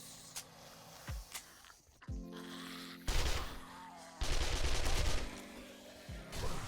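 Gunfire in the video game 7 Days to Die: several sharp single shots followed by two dense rapid bursts, fairly loud against a quiet background.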